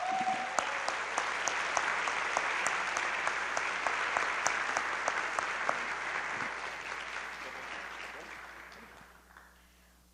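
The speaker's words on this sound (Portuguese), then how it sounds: "aplaudir a Ana Campagnolo enquanto ela sobe aqui para falar conosco" An audience in a church applauds as Ana Campagnolo comes up to speak, sustained steady clapping with some sharper individual claps standing out, slowly tapering before stopping near the end.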